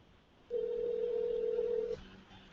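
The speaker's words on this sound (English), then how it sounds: "Answer the phone, Johnny!" An outgoing telephone call rings once on the line, a single steady electronic ring tone lasting about a second and a half, clear and close, followed by quiet.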